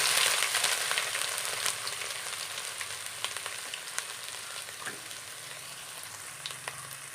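Crushed ginger hits hot oil while a Kerala-style pickle is being made, a bright, hissing sizzle that is loudest at first and eases slightly, dotted with small pops and crackles, with no talking.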